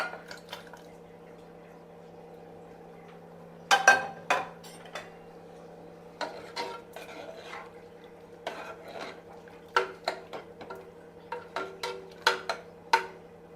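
Metal utensils clink and tap against a pot as cooked drumsticks go into sambar, scattered sharp clicks over a steady low hum, close and fairly quiet with no talking.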